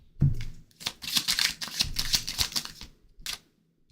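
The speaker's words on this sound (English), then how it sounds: "I'm going to shuffle this way." Tarot cards shuffled by hand in a quick series of crisp riffling bursts, close and clear with no talking.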